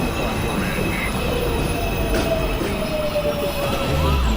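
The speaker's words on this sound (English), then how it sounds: "This is a Manhattan-bound 2 train." An NYC subway 2 train rumbles into a station, steady and loud, with wheel squeal and rail noise rising toward the end and no clear voices.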